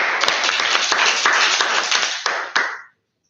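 A short burst of audience clapping at a Toastmasters club meeting, with many hands applauding close by for about three seconds before cutting off.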